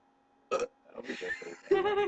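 A person lets out several short, loud burps in a row during a casual burping contest, ending in a longer, stronger one.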